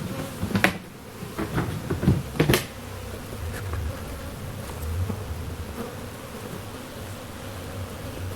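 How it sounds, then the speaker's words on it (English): Honey bees robbing nectar buzz close by in a low, steady hum, with a few sharp knocks and thumps early on, then a quieter continuous drone. "the bees will actually find this nectar and immediately rob it and take it back to their own hive"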